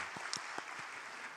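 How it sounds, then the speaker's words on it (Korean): A church congregation gives a brief, modest round of applause at a youth service, a steady wash of clapping that stays soft and fairly distant for just over a second. "저희 박수 한번 할까요?"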